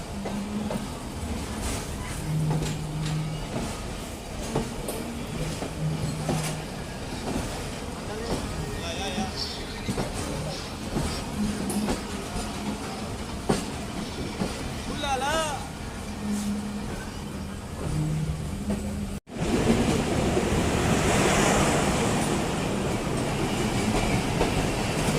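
The Awam Express train rumbles at Khushab railway station on a small platform, a loud continuous rolling clatter with bursts of squeal and a sudden louder roar near the end, with people talking over it.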